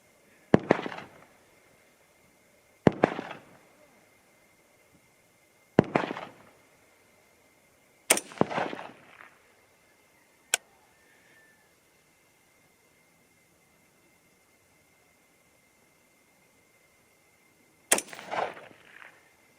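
Sharp 5.56 rifle shots firing 55-grain Nosler Varmageddon bullets, five reports spaced a few seconds apart with a sixth after a pause, each a loud crack with a short ringing tail, plus one faint distant pop between them, with no talk.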